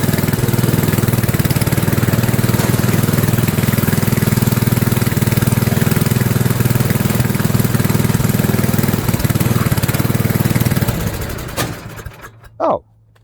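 A snowblower engine running steadily after repair, a loud, close mid-pitched drone that holds for about eleven seconds, then sputters, dies and falls silent, with a brief voice at the very end.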